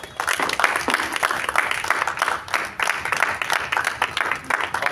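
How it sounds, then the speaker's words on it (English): Audience at a public speaking seminar applauding, dense continuous clapping from many hands throughout, fairly close and steady. "Give him a big round of applause."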